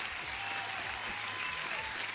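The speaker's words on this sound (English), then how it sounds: "You deserve an applause as well." A canned applause effect plays on a live futures-trading stream, a faint but even spread of clapping with no voice over it.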